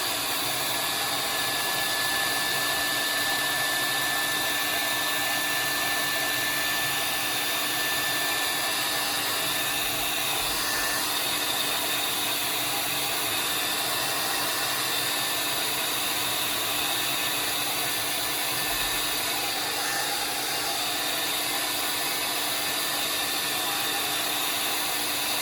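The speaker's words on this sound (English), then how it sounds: "I'm going to take my hair dryer that I have" A hair dryer blows hot air steadily over wet paint on an art piece, a constant whirring hum that holds at an even level, close to the mic, with no talking over it.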